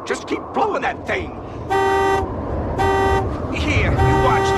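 A vehicle horn gives three long, steady blasts with short gaps between them during a fierce storm of the century. People shout and talk urgently in the gaps and around the honks.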